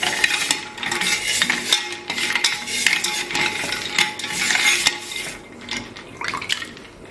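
Sharbat with almonds, pistachios and ice cubes is stirred with a spoon, giving loud close clinks and scraping against the vessel in uneven bursts, with no talking.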